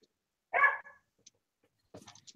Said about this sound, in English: He must hear something if he's able to